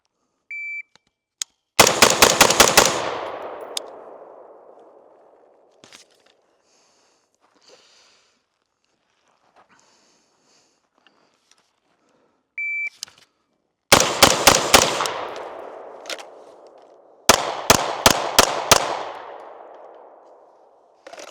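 Smith and Wesson M&P 15 SBR 5.56 rifle firing three rapid bursts of sharp, loud shots, each ringing out and decaying into echo, with quiet gaps and a few faint clicks between bursts.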